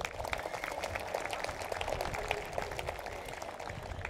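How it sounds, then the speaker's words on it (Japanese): Steady audience applause after a big-band jazz set at an outdoor jazz festival, dense even clapping sustained throughout at moderate distance. "もう一度拍手お願いします。"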